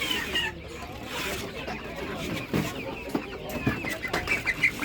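Chickens cluck and a rooster calls amid a busy flock nearby at a Saturday animal market, with a person talking over the birds.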